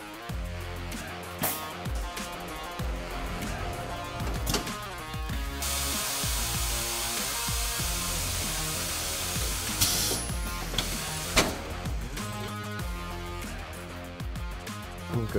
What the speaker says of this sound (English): Now we can move our tool heads into position using our laser and start to break the beads.